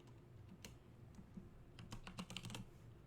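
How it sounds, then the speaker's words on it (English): Computer keyboard typing, a quiet run of light clicks that starts sparse and grows into a quicker burst of keystrokes near the end, with no talking. "I can just type it, or I can just drag it in. I'll just type it."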